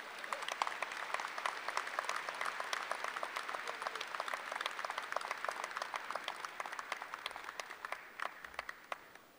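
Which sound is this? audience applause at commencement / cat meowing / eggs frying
audience applause at commencement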